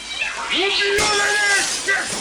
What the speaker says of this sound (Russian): Здесь кот!